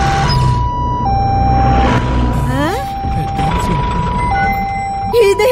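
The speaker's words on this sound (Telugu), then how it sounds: "అంబులెన్స్" An ambulance siren blares loudly and close, its pitch stepping back and forth between two tones, with a brief rising wail partway through and traffic noise underneath.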